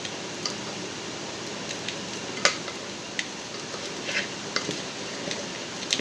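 Tempering of spices poured over a cooking vegetable, a soft steady sizzle close by with scattered small ticks and pops, no voices.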